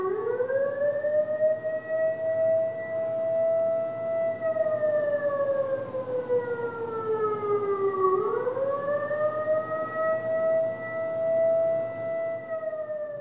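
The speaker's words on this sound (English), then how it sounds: "I had a tape recorder with a loop of siren" A siren played from a tape recorder loop holds a long wailing tone, slowly slides down in pitch, then swoops back up and holds again, steady and unbroken throughout.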